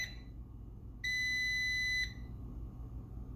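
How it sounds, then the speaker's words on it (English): A single steady electronic beep tone from a Power XL air fryer, about a second long, sounds clearly over a low background hum, then stops. "Okay, that's like 5 beeps."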